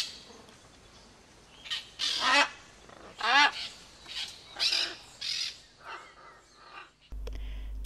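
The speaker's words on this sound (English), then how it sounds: "Tropical rainforest." Tropical rainforest ambience with several loud honking, squawking bird calls rising in bursts over a soft background, ending in a sudden louder noisy burst.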